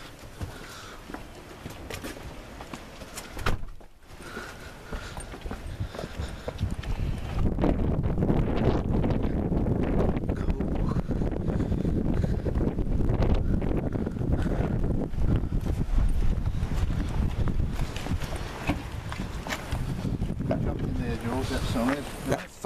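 Strong wind buffets the microphone outdoors, a heavy rushing roar that builds after a quieter start and holds loud through most of the stretch, with faint voices in places.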